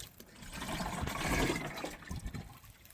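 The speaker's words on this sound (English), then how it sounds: "So I am going to fill up the watering can" Water gushes steadily into a watering can in a vegetable garden on a hot day, a close, continuous rushing pour that swells and then eases, no talking.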